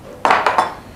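A metal wok is set down on a kitchen stove to heat, making three quick, close, ringing clanks in a row.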